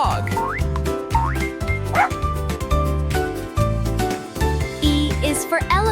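A dog gives several quick yipping barks over a bouncy children's tune, short repeated bursts spread throughout, near and prominent.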